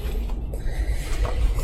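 An abandoned building's door in Belgium being handled, giving faint mechanical creaks and latch clicks over a steady low rumble, close and quiet with no voices.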